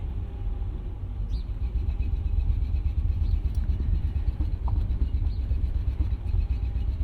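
A Mercedes-Benz ML55 AMG crawls along at walking pace with its engine misfiring badly, a rough, uneven low rumble that stutters and chugs continuously throughout.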